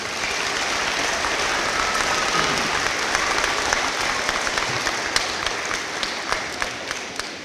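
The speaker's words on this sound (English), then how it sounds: "Give them a round of applause, please." An audience at a school Veterans Day program gives the choir, band and sound crew a round of applause: continuous, evenly dense clapping from a large crowd, with scattered sharper claps standing out.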